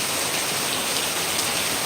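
Heavy rain pours in Payyoli, Kozhikode, as a loud, dense, unbroken hiss close by, with no voices.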